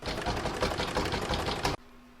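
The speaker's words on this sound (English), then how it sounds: "I'm now going to pop that in my machine and stitch round number 7" A sewing machine stitches round a single-fabric Christmas star, joining two pieces and sewing on ribbon in a fast, even rapid-fire rhythm, close up, stopping abruptly near the end.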